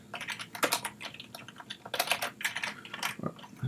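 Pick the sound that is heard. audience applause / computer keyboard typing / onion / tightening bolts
computer keyboard typing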